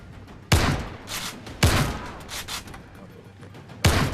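Three heavy shotgun blasts fire in the shooter game Zero Caliber, each a loud, close boom with a ringing tail, spaced about a second and two seconds apart, over faint background ambience.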